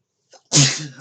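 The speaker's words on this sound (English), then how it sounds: "I've got real bad sneezes today" A single loud, close sneeze, preceded by a short intake of breath.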